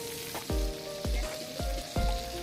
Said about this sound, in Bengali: 3 থেকে 4 মিনিট একটু ভেজে নেব